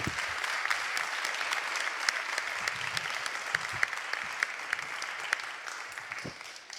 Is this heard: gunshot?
no